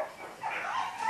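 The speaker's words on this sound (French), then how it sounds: "j'ai les chiens qui se sont sautés dessus" Dogs jumping on each other give a brief, close burst of whimpering yelps rising into a short bark-like whine, loud and without talk.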